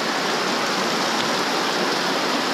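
Heavy monsoon rain pours down in a Kerala rainforest, a dense, steady roar of water that stays loud and unbroken throughout, with no voices over it.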